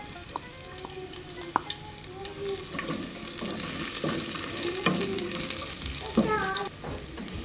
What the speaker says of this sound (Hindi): हाफ कटा हुआ प्याज या छोटा सा प्याज इसमें डालें और इसे ब्राउन होने दें।